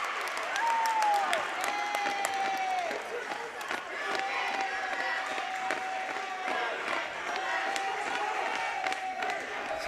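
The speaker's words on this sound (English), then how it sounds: "Pittsfield crowd getting really into this now as we get to the later parts of this ball game." A high school basketball crowd at a class B quarterfinal cheers and applauds steadily, with whoops and shouts rising over continuous clapping and whistle-like tones, loud and sustained throughout.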